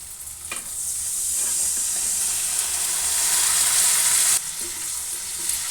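Chopped tomatoes go into a pan of softened onions, setting off a loud, continuous hiss and sizzle up close, with brief stirring clatters near the start and again toward the end.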